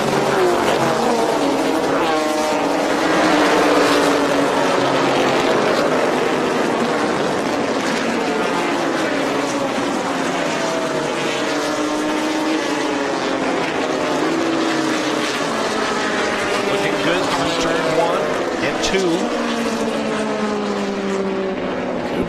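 Several vintage racing cars, including a Porsche 935, roar continuously on a track, engines whining and shifting pitch as they pass one another, loud and dense throughout.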